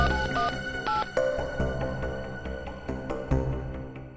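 A phone line tone over a busy background, with short beeps and tonal blips repeating amid clatter and low hum.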